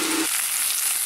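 Sausages browning in a hot frying pan give a close, loud, steady sizzle and crackle, with a brief low hum at the very start.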